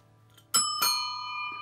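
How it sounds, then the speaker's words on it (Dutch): Two bright metallic bicycle bell rings, close and loud, the second ring left to fade with a long sustained tone over a low background hum. "Met een fietsbel"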